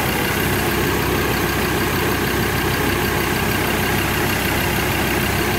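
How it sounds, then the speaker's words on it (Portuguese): A loud, steady diesel pickup truck engine idle rumbles continuously and close by, dense and unchanging throughout, with no voices. "Olha o barulho do motor."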